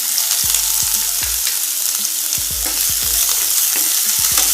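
Chopped green chili, capsicum and beans fry in hot oil for a Hara Bhara Kabab, a steady loud sizzle broken by repeated sharp stirring clatters close by, with no voices.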